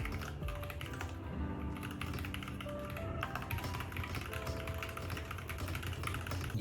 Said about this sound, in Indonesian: Nah ini gue mau coba untuk tes typing pakai keyboard WK-VK75 ini.